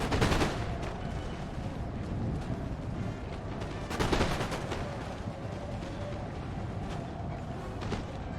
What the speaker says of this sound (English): This is the longest, like, gunfight I've had in a long time